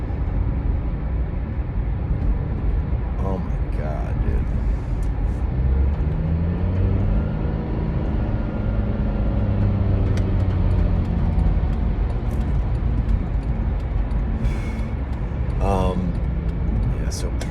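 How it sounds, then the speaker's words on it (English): Steady road traffic rumble from inside a car stuck in slow traffic, a continuous broadband drone with engine hum and passing vehicles, heard under someone talking throughout. "I'm stuck in traffic right now"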